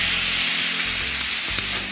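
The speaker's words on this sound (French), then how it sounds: "verser le brandy dans la poêle et l'allumer" Brandy poured into a hot frying pan and flambéed gives a steady, loud hissing sizzle with a low roaring rush of flame, broken by a couple of faint knocks, no talk.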